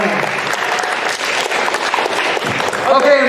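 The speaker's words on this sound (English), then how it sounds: "Let's give her a round of applause if you can hear it at home." Steady, dense applause at a school assembly for a student being recognised, filling the whole stretch at a constant, fairly loud level with a short swell near the end.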